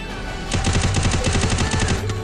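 Rapid automatic gunfire in the video game Free Fire, a loud, tight burst of evenly spaced shots lasting about a second and a half after a brief lead-in of game ambience.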